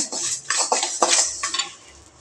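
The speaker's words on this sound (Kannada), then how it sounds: "ಈಗ ನಾನು ಬಾಂಡಿ ಇಟ್ಟಿದ್ದೀನಿ ಶಾವಿಗೆ ಹಾಕ್ಕೊತೀನಿ ಹುರ್ಕೋಬೇಕು ಸ್ವಲ್ಪ ಸ್ವಲ್ಪ ತುಪ್ಪ ಹಾಕ್ಕೊತಿದ್ದೀನಿ" Vermicelli is stirred as it roasts in ghee in a pan for shavige payasa, giving a few quick clinks and scrapes of a spoon against metal, close and brief, with faint frying underneath.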